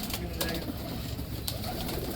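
Pigeons, including old khaki pigeons kept by a fancier in Gajansu, Jammu, coo softly in a low murmur amid steady background noise, with brief flutter-like bursts and no talk over them.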